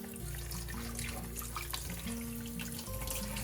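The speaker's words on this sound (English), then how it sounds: "Really give this a good rinse now." Tap water runs steadily into a sink, splashing and shifting in pitch as broccoli is rinsed under the stream.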